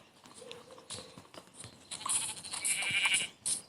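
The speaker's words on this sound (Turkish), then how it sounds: "Tepede bir tane koyun var onu öldüreceğim." A few short Minecraft sheep bleats ring out over a busy game soundscape with faint rustling and clicks, no talking.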